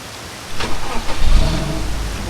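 A car engine in a video game cranks and catches about half a second in, then settles into a steady, moderately loud running hum with a few revs, with no talk.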